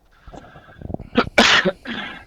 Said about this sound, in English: This man's hacking up a lung all over me.